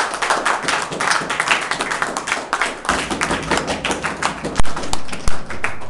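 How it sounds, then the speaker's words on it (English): A classroom of students gives a round of applause, uneven claps and taps scattered irregularly, with a few sharper, louder hand claps and thumps near the end. "Can everyone give Luke a big round of applause?"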